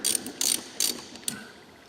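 A ratchet clicks in three short rapid bursts while tightening the bolts on a Barton Challenger pistol grip, close and crisp with brief pauses between strokes.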